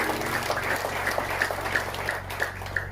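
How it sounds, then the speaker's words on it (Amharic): A church congregation clapping in rhythm, steady repeated claps over a constant low hum, continuing throughout at moderate loudness. "ለቃሉ ክብር አጨብጭቡ"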